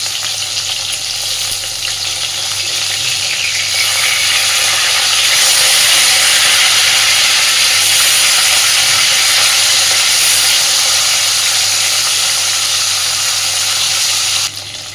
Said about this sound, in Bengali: মাছগুলোর এক পিঠ সুন্দর করে ভাজা হয়ে গেছে। এবার আস্তে আস্তে উল্টে দেব।